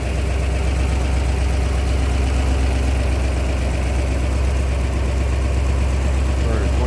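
A 1959 Ford Fairlane 500 Skyliner's 332 V8 idles steadily and loud up close with the hood open, a smooth, even rumble with constant low pulsing throughout.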